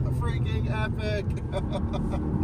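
A Porsche sports car carries speed on the road, its engine revving in quick bursts with rising and falling tones, heard close from the cabin while a person talks over it.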